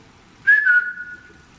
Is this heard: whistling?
yes